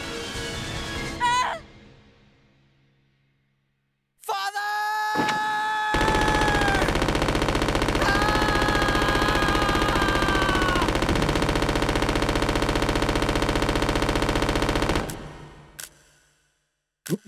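Sustained automatic Uzi fire in Resident Evil Code Veronica X, a loud continuous burst of about nine seconds, with shorter sharp bursts before and after it and no talking.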